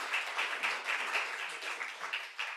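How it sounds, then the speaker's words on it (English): An audience applauds at a Club of Rome conference session, a dense, steady patter of many hands clapping together for a couple of seconds, with no voices over it. "Big applause."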